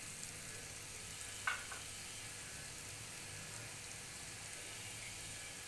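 Cut mushrooms fry in melted butter in a frying pan for white sauce pasta. A soft, steady sizzling hiss carries on throughout, broken by one brief clink near the start.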